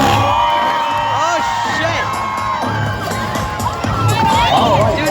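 A crowd at a motorbike jump show cheers, whoops and yells loudly and continuously, with many voices shouting over one another throughout.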